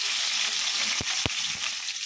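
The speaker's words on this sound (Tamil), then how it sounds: "கடுகு நல்லா பொரியுது." Mustard seeds spluttering in hot oil in a kadai give a dense, continuous hiss with a few sharp pops standing out near the middle, close and fairly loud, with no talking.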